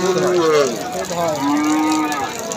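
A milk cow at a cattle market lets out a couple of loud, close, drawn-out moos with a low hum of surroundings behind it.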